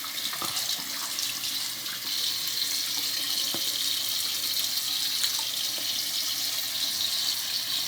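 A bathroom tap runs steadily into a sink while someone washes their face, a constant close hiss of water with faint splashes and small clicks, no talking.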